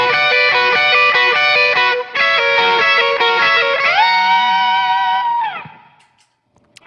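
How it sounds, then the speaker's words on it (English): Two electric guitars play in harmony, one of them looped on a Boss RC3 loop station while the other plays arpeggiated chord tones above it, loud and close with effects, ending in a sustained note that fades out. "one guitar is going, and another guitar is up here playing an arpeggio based, playing chord tones"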